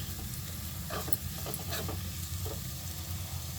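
Curry leaves fry in a pan with green chillies and onion for paneer bhurji, giving a steady close sizzle with a low hiss and a few sharper crackling bursts.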